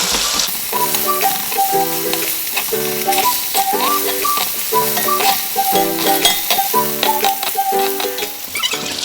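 Turmeric and salt are stirred into a fish curry with jackfruit seeds and bamboo shoot in a hot pan, giving a steady close sizzle with spoon scrapes under a light repeating background melody.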